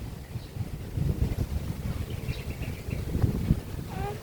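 Gusty wind buffets the microphone in low rumbling bursts, a breezy seaside roar on Boracay with faint bird chirps near the end.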